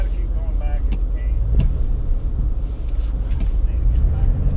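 Car engine straining and revving while stuck in snow, a loud low steady rumble close by with people talking over it.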